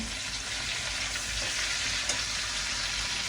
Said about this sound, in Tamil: கருமிளகா வந்து நல்லா வதங்கி கொண்டு வர கட்டத்தில்